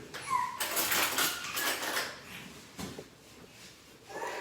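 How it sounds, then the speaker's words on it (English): Batter with baking soda and a pinch of salt stirred in a bowl for homemade Russian cakes, soft scraping and clinking of a utensil against the bowl, close and fairly quiet, with no talking. "So now I'm gonna mix this."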